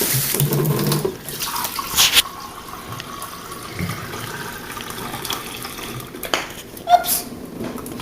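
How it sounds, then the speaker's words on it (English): Tap water runs into a cooking pot for mac and cheese, a steady faucet stream with some clanks and splashes at the start, heard fairly close with no talking. "we're going to fill up the pot with, I'd say, 5 cups of water"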